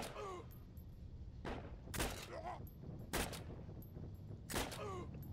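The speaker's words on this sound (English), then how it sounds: "I wonder how fast I can shoot this gun." Gunfire from a weapon in the video game Heroes and Generals: three faint, widely spaced sharp shots, with a voice murmuring quietly in the background.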